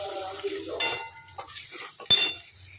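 A spice paste fries in oil in a pan while a metal spoon stirs and scrapes it, making soft sizzling broken by a few sharp clinks and scrapes against the pan.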